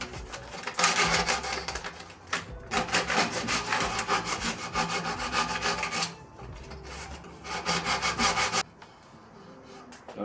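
Sandpaper rubbing back and forth by hand in fast, rasping strokes, close and fairly loud, with brief pauses between bursts.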